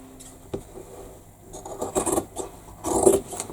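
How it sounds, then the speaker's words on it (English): Scissors snip fabric seam allowances on a messenger bag being sewn, a few soft scattered rasping cuts close by and quiet, no talk. "I'm trimming to 1/4 of an inch."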